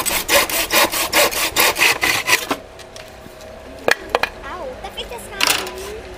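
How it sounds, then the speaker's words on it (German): A hand saw cuts through wood in about ten quick, even, close rasping strokes, then stops, leaving quieter handling noises and a voice speaking. "Das sägen wir ab. Das säge ich ab."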